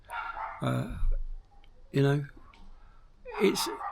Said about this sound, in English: It's a Sunday afternoon and the dog's barking.